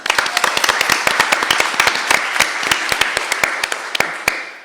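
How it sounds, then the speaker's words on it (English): A small audience claps for an ASL interpreter at an evening talk, producing a steady patter of crisp, close individual claps that runs throughout without pause. "A round of applause for Christina."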